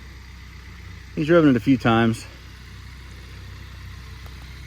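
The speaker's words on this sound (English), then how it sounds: "driving the tractor" A tractor engine idles and runs at a low, steady rumble in the background while someone speaks briefly over it.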